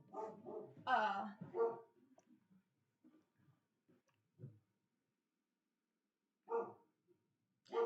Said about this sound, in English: Octavia, yeah, it's my dog